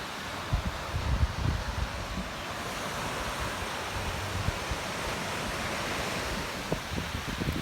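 Waves on Sachuest Beach in Newport, Rhode Island, roll in with a steady broad wash of surf, and gusts of wind buffet the microphone throughout. No one speaks.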